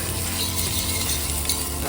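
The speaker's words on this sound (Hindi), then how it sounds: "तो ये हमने तड़का लगाना शुरू कर दिया है।" Tadka tempering sizzles steadily in a pan over an open fire in a jungle cooking setting, a close, continuous crackling hiss with faint stirring and no talk.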